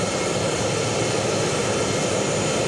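Jet engines hum steadily inside the cabin of the French presidential aircraft, a loud, unbroken roar with no voices over it.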